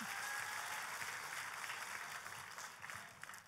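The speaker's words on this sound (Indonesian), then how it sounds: "Tepuk tangannya yang paling meriah buat Tuhan kita." Church congregation applauding enthusiastically, a dense steady wash of many hands clapping that stays loud throughout and eases slightly toward the end, with no voices on top.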